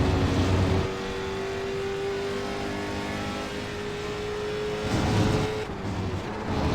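A race car engine in a sim racing game roars loud and steady, with a sharp surge at the start, a sustained high whine, and another rise near the end as gears change.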